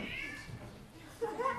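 A voice imitates a cat for Prokofiev's Peter and the Wolf, with a drawn-out meow rising and falling briefly after a short stretch of low murmuring.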